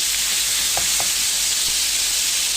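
Shawarma meat for a Syrian shawarma fatteh sizzles in a hot frying pan, a steady, loud, close hiss with a couple of faint clicks and pops and no voices.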